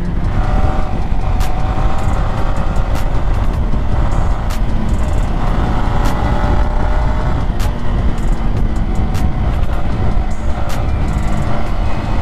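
Yamaha R15 V3 motorcycle ridden on the open road, a continuous loud engine drone mixed with heavy wind rush, steady throughout with no talking.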